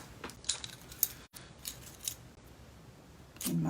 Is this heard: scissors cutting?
yes